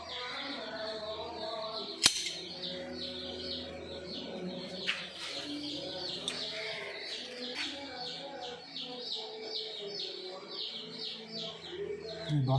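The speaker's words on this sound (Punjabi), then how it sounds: "ਬਸ ਕਬੂਤਰ" Pigeons being kept for a racing tournament coo and chirp softly in a loft, a steady low murmur of calls with a sharp knock near the start and faint background noise throughout.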